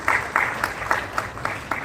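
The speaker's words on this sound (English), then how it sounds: "Let's have a bigger round of applause for Dr. Rakesh Mangeshkar." Rhythmic, evenly spaced claps from an audience at the Yugma 2026 national oratory contest inauguration ceremony, applauding the chief guest; a short, fairly loud run of unison clapping with no talk.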